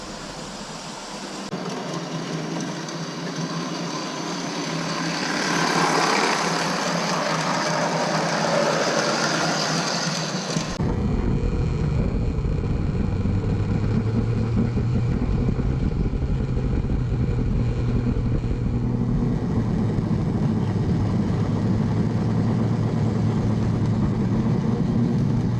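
A repaired postwar Lionel 221 Rio Grande Alco FA toy locomotive, with its extra gears removed and only one axle driven, whirs in a steady, fairly quiet motor hum. The pitch shifts partway through and then continues evenly, with no one talking.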